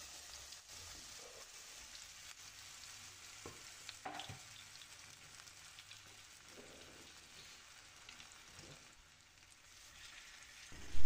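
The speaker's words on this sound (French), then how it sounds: "Je vais les faire cuire dans cette poêle dans laquelle j'ai ajouté un peu d'huile végétale" Food fries in a pan of vegetable oil over high heat, giving a steady, dense sizzle and crackle with a few louder pops and stirring scrapes, no voices.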